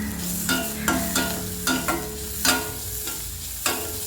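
Ginger paste sautéing with onions in hot oil makes a constant close sizzle, punctuated by about seven sharp, regular scraping strokes of a spoon against the pan.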